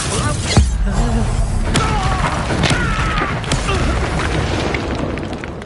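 A Confringo spell explosion in the video game Hogwarts Legacy makes a loud booming blast with crackling debris, layered under game music and a voice, sustained and dense throughout.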